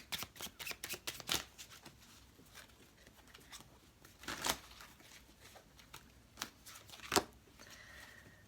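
Rider-Waite tarot deck being shuffled by hand, a series of crisp riffling card bursts and soft slaps in irregular clusters, close and moderately loud with quiet gaps between.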